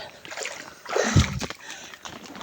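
Water splashes and sloshes as someone wades across a shallow river on the way to a farm, with a louder burst of splashing in the middle of the short stretch.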